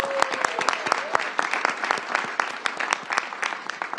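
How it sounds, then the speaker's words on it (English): A room full of people claps steadily, with distinct individual claps standing out amid the crowd's applause and a few faint voices. "Let's give the mayor a round of applause."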